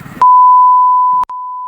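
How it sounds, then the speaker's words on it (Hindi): A loud, steady censorship bleep masks abusive language by a police officer, a pure tone lasting about a second, with a brief gap and a second short beep, preceded by a moment of muffled speech. "ये जो बीप की आवाज है वो इसलिए म्यूट की गई है क्योंकि यहाँ गाली गलौज दी जा रही है"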